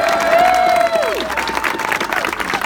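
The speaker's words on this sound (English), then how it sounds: "would you please just give another round of applause for Phil and Tammy Murphy" Applause and crowd noise at a 2017 New Jersey campaign victory rally, with clapping under a voice at the start, then a steady wash of claps.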